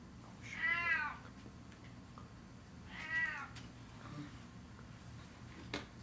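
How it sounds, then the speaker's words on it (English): Two clear cat meows about two seconds apart, each a short rising-falling call from a male cat close by, over a low steady room hum with no talk. "my cat is here letting you know that he wants to say hi"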